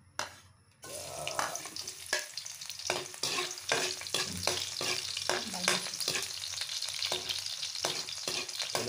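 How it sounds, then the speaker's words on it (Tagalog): Garlic and onion hit hot oil with a sudden loud sizzle, then keep frying steadily while a utensil scrapes and taps the pan in irregular strokes. "Magigisa na po tayo ng ating mga ingredients guys, yung bawang, sibuyas sa kanila"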